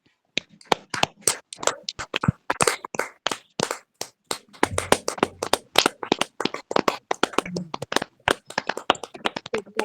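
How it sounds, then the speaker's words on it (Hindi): Women at a fellowship prayer meeting clap loudly in thanksgiving, sharp close hand claps in a fast irregular burst that carries on for about ten seconds. "ऊंचे ताली के साथ परमेश्वर का धन्यवाद करेंगे"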